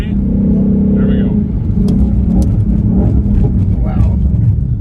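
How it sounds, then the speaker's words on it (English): A 2020 Ford Mustang GT500 braking hard from 100 to a stop, a loud steady in-cabin rumble of engine and road noise that holds throughout while people talk over it. "I'm going to take you from 100 to 0 here since nobody's behind us"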